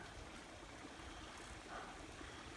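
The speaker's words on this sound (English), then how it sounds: "Stream is flowing good though." A stream flows through a newly installed double culvert crossing after rain, making a faint, steady wash of rushing water with no voices.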